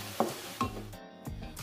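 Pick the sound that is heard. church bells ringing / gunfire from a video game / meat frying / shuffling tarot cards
meat frying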